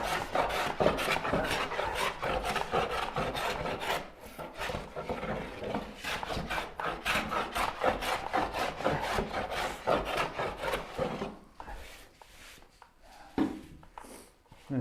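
Hand woodworking on a board: long rhythmic plane passes and scraping strokes on wood, close and steady, a repeated series of rasping sweeps with brief pauses between them, no talking.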